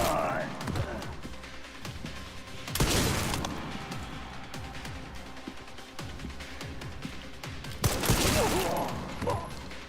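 Machine gun fire in the Resident Evil Requiem game, with bursts of shots and crashes scattered through, loudest around two heavy volleys, over ongoing game noise.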